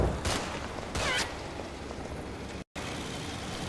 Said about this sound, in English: The snipers continue to fire as the BTR slowly advances.